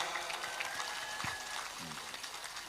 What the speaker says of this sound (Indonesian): Tepuk tangan untuk Mas Ipang Wahid.